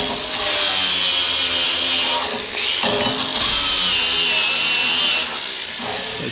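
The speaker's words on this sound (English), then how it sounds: "Sand them off a little bit." Metal pieces of a small handmade auger being sanded with a power sander, giving a continuous loud rasping grind with slight dips as the tool shifts on the workpiece.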